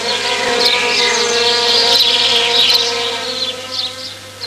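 Foraging honeybees make a steady, close buzzing drone that rises and falls slightly as they move, heard alone without talk.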